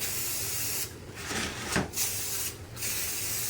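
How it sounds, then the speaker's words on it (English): Close, hissing bursts from an aerosol can of brown spray paint lightly sprayed on wood edges, several short sprays in a row broken by brief pauses. "We're just going to take a brown spray paint and we're just going to lightly spray the edges"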